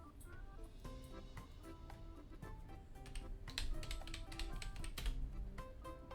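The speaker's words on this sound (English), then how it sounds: "Listen to how loud my freaking keyboard is." A loud computer keyboard clatters nearby in quick, irregular bursts of key taps that thicken into faster typing toward the end, with no voices, during a live talk show broadcast.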